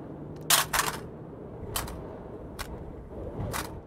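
Several brief clattering clicks of AR10 rifle magazines, metal and plastic, being grabbed and handled, close up against a quiet background, spaced out over a few seconds.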